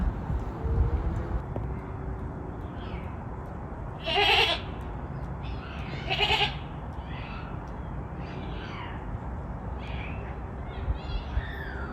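Goat bleats ring out a couple of times at moderate distance over a steady outdoor background at an animal park near Angers, France, with occasional faint bird-like calls.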